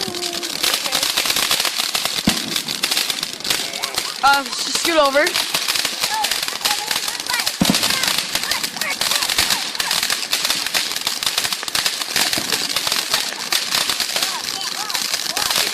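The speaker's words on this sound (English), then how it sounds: "this is our last firework" Rapid crackling bursts of fireworks go off close by, a dense popping barrage that runs steadily, with voices talking over it.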